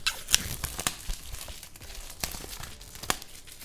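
Plastic shrink wrap being torn and peeled off a boxed PC game, Mass Effect Trilogy, giving several sharp crinkling rips and crackles in short bursts, close up, with no talking.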